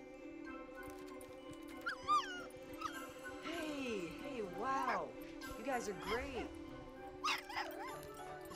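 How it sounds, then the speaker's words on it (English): Golden retriever puppies whimpering, yipping and giving small barks in a scattered series at moderate distance, mixed with people talking over them. "Hey, cool puppies!"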